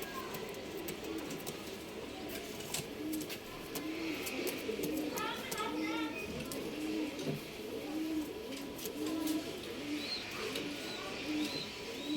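Pet pigeons kept for sale in Bangalore coo repeatedly, soft rolling calls at a steady pace, with faint chirps and background noise around them.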